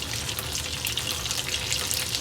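Mantis shrimp sautéing with ketchup in a pan, giving a bright, continuous sizzle with crackly spatters, close and steady for a couple of seconds with no talking.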